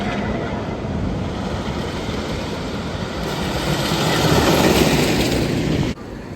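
Old wooden roller coaster ride at Six Flags St. Louis: a steady loud rumble and clatter of wheels on track that swells toward the end, then drops off abruptly.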